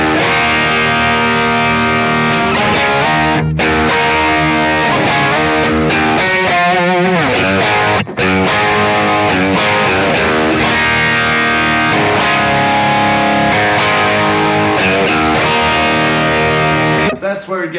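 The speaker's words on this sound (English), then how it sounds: "That's where it gets really saturated and you can go into lead territory." High-gain electric guitar played through a Browne Carbon V2 overdrive pedal with the gain past noon, a thick saturated lead tone with sustained notes and bends, loud and continuous with no talking.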